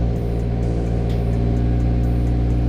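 A Mitsubishi Evo X engine that is not running properly idles right after starting, a loud steady low drone with a dense, even hum that holds throughout.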